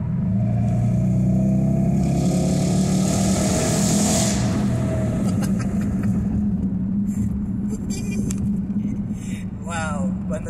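A Dodge Charger SRT8 (LX) engine drones steadily as the car accelerates, a broad rumbling roar heard from inside the cabin that holds loud, then eases slightly toward the end, with a voice speaking over it.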